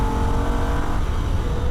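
A Holden VF Ute driven flat out on the Nürburgring, its engine roaring loud and close under hard acceleration, with a steady sustained drone and a shift in pitch partway through.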